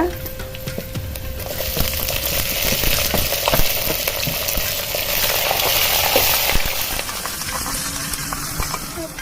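Dried red chillies and green chillies tempering in hot oil for lemon rice give a loud, crackling sizzle with sharp pops and stirring scrapes, continuous and close, with no voices.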